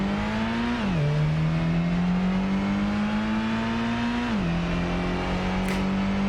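A car engine in the PlayStation racing game Gran Turismo 1 holds a loud, steady synthetic whine that climbs slowly, dropping in pitch at two gear shifts.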